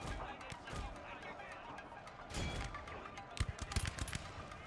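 Volleys of arrows loosed by archer units in a Shogun 2: Total War battle, a dense wash of whooshes and thuds with sharper impact bursts near the end, under continuous battle noise and a talking voice.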